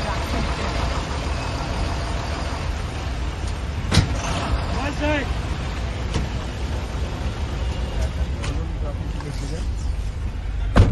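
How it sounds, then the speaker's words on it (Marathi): Buses, trucks and cars sit idling in a traffic jam, a steady engine rumble and road noise running the whole time, with a couple of brief sharper knocks and voices talking over it. "अरे जाम ट्रॅफिक"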